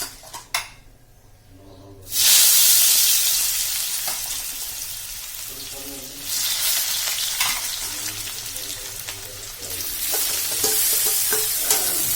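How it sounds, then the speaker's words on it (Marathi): Pieces of suran (elephant foot yam) drop into oil with mustard seeds and burst into a loud, close sizzle that flares up again partway through, with stirring and light pan noises. "थोडी मोहरी टाकून घ्यायची आहे आणि आपण आता त्याच्यात सुरणचे पीस टाकून घेणार आहे"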